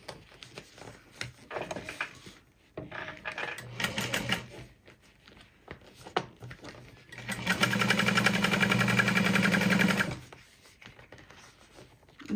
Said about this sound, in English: I'm folding that seam down as I stitch across that